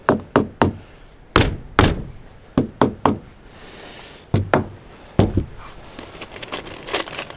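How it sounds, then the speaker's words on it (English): Hammer tapping wooden barn door boards flush for a 2-inch thick rustic sliding door, a series of sharp close knocks in irregular clusters with short pauses between. "Tap that in. Use your hammer if you need to."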